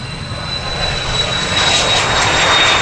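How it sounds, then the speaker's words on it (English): An airplane takes off from a runway with a loud, broad engine roar that builds steadily and stays close and continuous, with no voices. "They're taking off. Taxiing down the runway."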